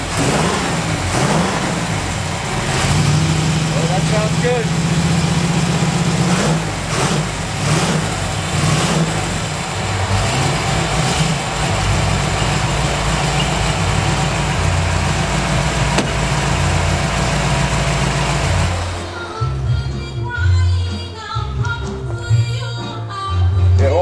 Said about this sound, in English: all my cars, they start up.